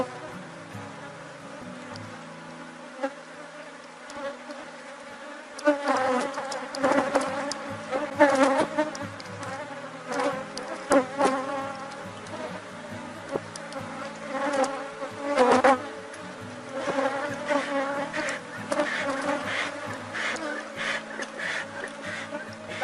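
Bees buzz densely around an open hive as a swarm is divided in the morning after rain, a constant drone that swells louder in waves as insects fly close, with a voice speaking faintly at times.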